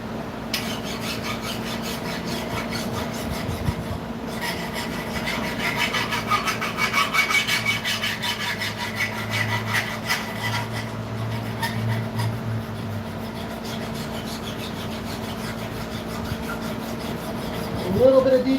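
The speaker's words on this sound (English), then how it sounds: "A little bit of decarb to file through here." Hand file rasps steadily back and forth across forged 26C3 Hitachi White steel in a workshop, a continuous gritty scraping at close range with a constant background hum.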